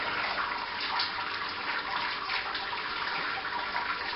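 Wort draining from the lifted malt pipe basket of a Robobrew brewing system during a pale ale brew day, a steady close gush of pouring liquid that runs unbroken and fairly loud.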